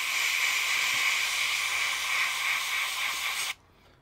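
An airbrush spraying paint onto a diorama model of an abandoned farm house, a steady close hiss that stops abruptly near the end, leaving near silence.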